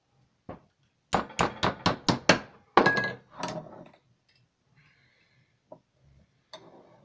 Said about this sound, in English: This one here I'm going to have to use the hammer because it's a little thicker stainless steel.